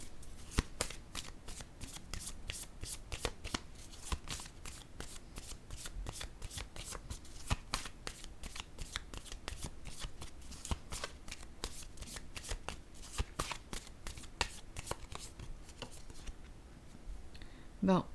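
Tarot cards being shuffled and laid out, giving a long run of quick, crisp riffling clicks at a steady close rhythm, with a voice heard speaking quietly in French underneath.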